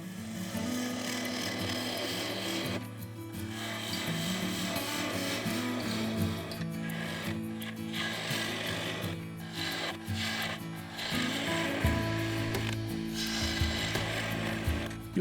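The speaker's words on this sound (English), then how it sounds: "Hollowing out was done with a 3/8 ball gouge." A 3/8 ball gouge hollows a mahogany bowl spinning on a lathe, giving a rough scraping and rasping cut in repeated passes, with brief pauses and pitch changes between cuts as the tool digests the wood.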